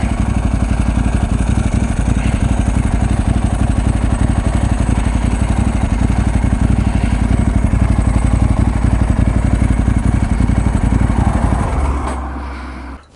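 A Ducati 916 motorcycle engine held hard against the rev limiter, a loud, close, continuous rapid-fire stutter of cut-out pulses that drops away abruptly near the end.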